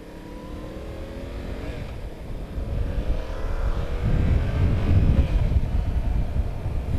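2022 Yamaha R7 motorcycle engine on a test ride, a rising drone as the rider accelerates through gears, with strong wind rush building louder over the run.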